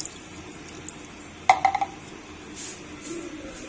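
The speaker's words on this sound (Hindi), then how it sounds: "1 गिलास पानी ऐड करेंगे।" Water from a glass is poured into a pan of chicken seasoned with salt, turmeric and red chili, a brief close splash and gurgle with a few clinks against the pan, followed by quiet kitchen background.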